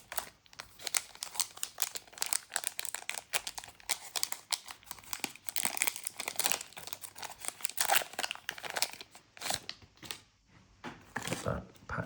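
A Magic: The Gathering Lorwyn Eclipsed collector booster pack wrapper crinkled and crumpled by hand, close and quiet, a busy run of crackling rustles and small tearing sounds with a few louder crunches near the end.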